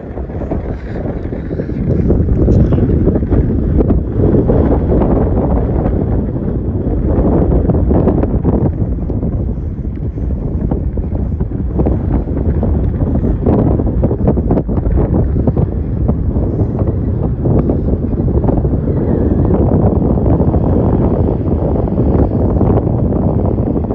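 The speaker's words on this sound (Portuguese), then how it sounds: "Ventando com força." Strong wind buffets the microphone during a bicycle ride, a loud, continuous low roar that fills the whole stretch with no speech.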